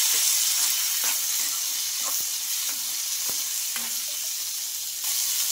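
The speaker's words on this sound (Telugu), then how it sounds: "ఇంకా ఇలా చిన్నగా కట్ చేసుకున్న టమాటా ముక్కలు కూడా వేసేసుకోవాలి." Small chopped tomato pieces frying in a pan with ginger and green chillies: a steady loud sizzle and hiss, with a few soft stirring knocks scattered through it.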